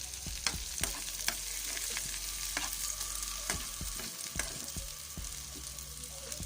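Green chilies and onions dropped into garlic frying in hot oil, a soft steady sizzle with repeated sharp clicks and scrapes of stirring, fairly quiet and without speech.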